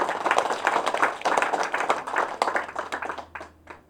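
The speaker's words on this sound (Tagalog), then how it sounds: "So, isang palakpak pa sa Panginoon." A church congregation claps together for the Lord, brisk dense clapping that holds steady, then thins to a few scattered claps as it dies away.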